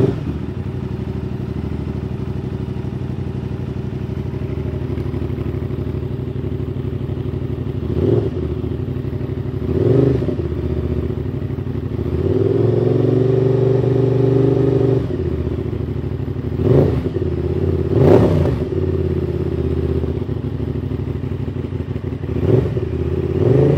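An Aprilia RS660 sport motorcycle fitted with a new aftermarket exhaust and no dB killer idles with a deep loud rumble, then snaps through several sharp throttle blips and one longer rising rev, close and alone.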